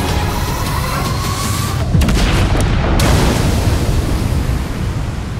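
A coastal artillery round fires from a harbor-defense battery in San Francisco, heard as a deep, broad boom over a steady roaring rumble that swells and lingers for several seconds, with no talking.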